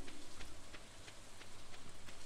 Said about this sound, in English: The warm rain is a pleasant way to get clean.